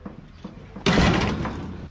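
A door is shut close by with one firm thud and rattle that fades into a short echo, after quiet background noise.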